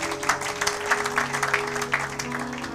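A church congregation claps together, giving a steady, dense patter of many hands in a reverberant room, moderately loud and continuous for a few seconds.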